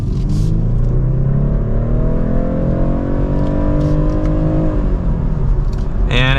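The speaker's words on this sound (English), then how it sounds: "And it revved out a little higher in normal automatic there." Engine of a 2025 BMW 430i coupe in normal automatic mode, revving steadily higher under acceleration as a rising drone is heard from inside the cabin, then easing off with a shift near the end.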